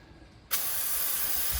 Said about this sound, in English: I like to spray a little bit of fluid film on a paper towel.